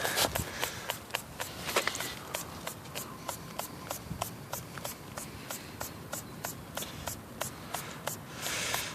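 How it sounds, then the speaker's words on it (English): A small spray bottle of waterless car wash pumped again and again, giving a steady series of short, sharp spritzes at an even rhythm, close by, with no talking. "you're going to want a different spraying device than this sucker, because this thing is hard to spray"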